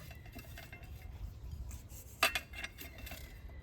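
A spoon stirs and scrapes together the ingredients for a nut biscuit dough with lightly toasted white sesame, a quiet, continuous rubbing and clinking against the bowl with one brighter metallic tap.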